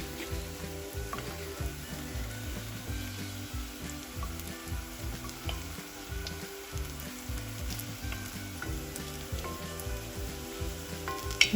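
Ingredients for a healthy soup frying in a pan, with a continuous close sizzle, repeated stirring and turning scrapes, and no speech.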